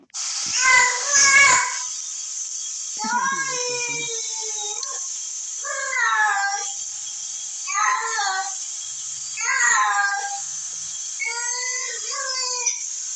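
Recorded cat meows and yowls played from a device toward a house cat, a series of about six separate drawn-out calls spaced a couple of seconds apart over a steady high electronic whine.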